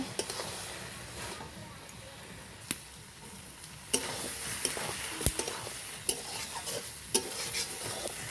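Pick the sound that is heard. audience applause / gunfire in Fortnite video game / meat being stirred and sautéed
meat being stirred and sautéed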